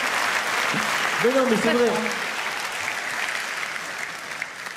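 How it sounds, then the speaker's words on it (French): Audience at a rugby awards night applauding a rugby player, a steady, fairly distant wash of clapping, with a few words spoken over it partway through. "applaudissez tous ensemble le joueur de rugby"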